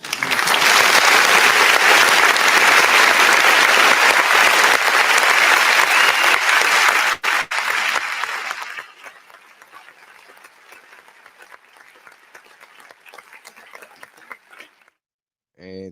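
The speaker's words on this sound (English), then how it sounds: "Clap it up for the women." A crowd at a Women's History Month kickoff event gives loud, dense applause for about eight seconds, which then drops to scattered lighter clapping that fades to near silence.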